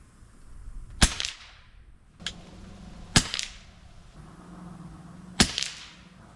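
Three sharp rifle shots crack out with SK Standard Plus ammunition fired at targets, spaced about two seconds apart, each with a short echoing tail, plus a fainter mechanical clack between them.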